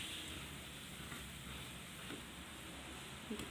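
Chili powder stirred into bitter gourd pickle in a pan, a steady close hiss and soft scraping sizzle running throughout with a faint clink near the end.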